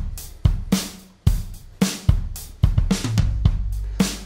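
A GarageBand virtual drummer track plays a drum part alone, with punchy kick and snare hits in an uneven groove and ringing cymbal wash between strikes, clear and close.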